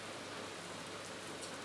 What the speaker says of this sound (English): Look at that rain, John. Mate, that is terrible.